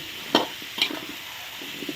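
A pumpkin and pork curry with coconut milk being stirred in a pot, two distinct scraping clicks of the utensil followed by softer wet stirring sounds over a faint steady background hiss.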